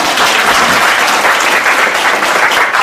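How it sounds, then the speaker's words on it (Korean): Loud, dense audience applause at an Australian real estate seminar held in Korea, a continuous burst of clapping close by for about three seconds. "박수!"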